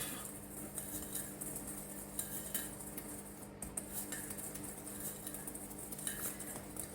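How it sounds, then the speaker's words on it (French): A spoon stirring three cake ingredients together in a bowl, faint metallic scraping and light clinks repeating steadily against the dish. "avec la cuillère magique, on va bien amalgamer ces 3 ingrédients"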